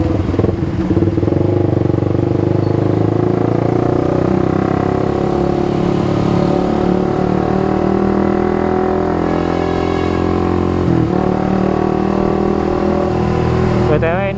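A motorcycle fitted with a racing air intake runs continuously while being ridden through city streets, with a loud, steady engine drone and mild revving, and a voice talking over it.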